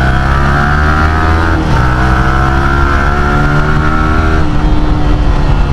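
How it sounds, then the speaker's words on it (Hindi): A motorbike engine roars loudly and close up, holding a steady throaty drone with slight pitch shifts as it revs. "ये तो धर्राटे काट रही है आज अपनी बाइक।"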